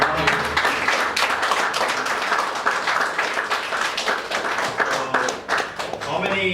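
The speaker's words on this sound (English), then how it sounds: "A round of applause to." Audience applause at an astrophotography talk, a lively round of close, crisp clapping with distinct individual claps, fading near the end as a voice returns.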